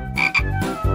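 A frog croaking in two or three loud, close, buzzy calls with a raspy pulsing texture, heard alone without any talking.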